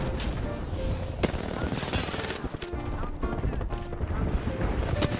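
Rapid gunfire rattles through a shooter video game duo match, dense overlapping bursts and single sharp shots, loud and close, with players talking quickly over the shooting.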